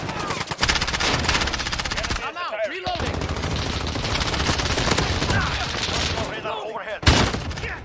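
Sustained automatic gunfire fills a first-person shooter match, rapid shots rattling close and loud nearly throughout, broken by a couple of brief pauses.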